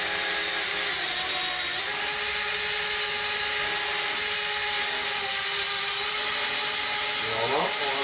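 Small RC drone hovering and tilting forward and back, a continuous high-pitched whine of spinning propellers close by, with pitch shifts as it tilts and a brief rising sweep near the end.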